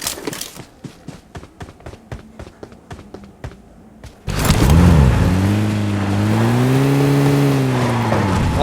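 A car engine in the PUBG Mobile game starts abruptly and revs loudly, its pitch swooping up and down, right after a run of sharp rhythmic footsteps or thuds.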